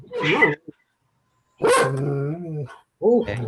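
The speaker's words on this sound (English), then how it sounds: "dogs heard the cats." Dogs barking in a house in two short bursts, fairly close and loud, with a brief pause between them.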